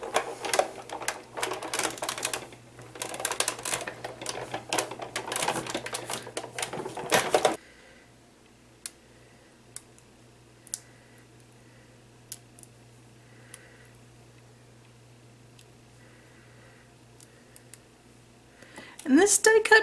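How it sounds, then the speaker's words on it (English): A die cutting machine runs thick cardboard with raised textured paste through it. A dense rattling, clicking run lasts several seconds and stops abruptly, followed by a long quiet stretch with faint ticks and a brief loud clatter at the end. "I want to see what happens when I go to die cut this."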